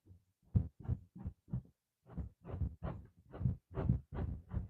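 Electric clippers used for rug carving pulse in a repeating throbbing pattern like a heartbeat, a dozen dull rhythmic surges with short gaps, close and fairly loud.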